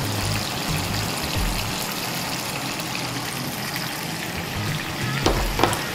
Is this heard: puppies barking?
no